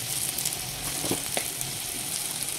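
Spices sizzle in a pan for chamgada pulusu, a steady dense frying hiss with a few soft stirring scrapes, close and continuous with no talking.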